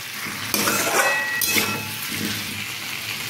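Fish curry with pumpkin and turmeric is stirred in a hot pan, a loud close sizzle with a sharp utensil knock near the start and rough scraping strokes after it; nobody speaks.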